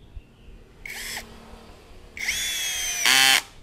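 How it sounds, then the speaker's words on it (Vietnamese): A small cordless screwdriver with variable speed and a slipping clutch, heard in three short high-pitched whirring bursts with a pause between, the last burst louder and ending in a rapid ratcheting clatter; no talk. "cố tình bóp cho mọi người nghe cấp trượt của nó."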